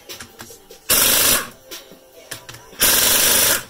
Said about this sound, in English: it's a quarter inch drive Cornwell Tools, 3 8 drive pneumatic impact